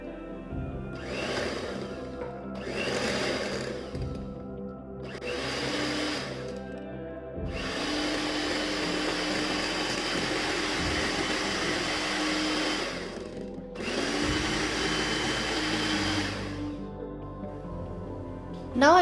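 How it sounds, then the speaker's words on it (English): An electric mixer whirs through dry ingredients of flour, chocolate powder, powdered sugar, baking powder and salt, running in three short bursts and then two long steady runs, loud and close, with no talk. "I'm going to mix it all together."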